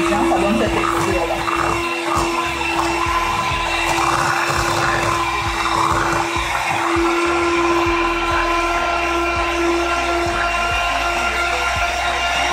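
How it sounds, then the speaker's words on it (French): A mixer whirs steadily while blending cake batter ingredients, a loud continuous motorized drone with a constant hum running under occasional clatter throughout. "Mélanger tous les ingrédients, ça donne cette texture là."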